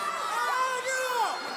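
Staten Island wrestling crowd at an indoor show, a dense roar of cheering and shouting voices close and steady with rising whoops.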